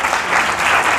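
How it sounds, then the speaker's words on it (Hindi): Audience applause for a student speaker at a school career counselling event, a loud, dense, continuous clapping from a crowd that fills the whole moment. "एक बार पुनः इनके लिए जोरदार ताली।"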